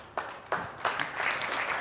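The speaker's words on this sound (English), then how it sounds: "a little preemptive clap there." Applause on a Zoom call during a startup pitch night, with a few sharp separate claps at first that thicken into a light, uneven patter of clapping.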